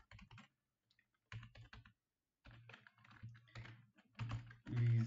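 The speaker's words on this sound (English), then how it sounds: "I can't type." Bursts of typing on a computer keyboard while coding in Python, quick close clicks in separate clusters with short pauses between them, ending in heavier keystrokes.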